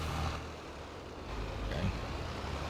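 Tractor engine in the Farming Simulator 22 video game, a steady low rumble holding at an even level throughout with no speech over it.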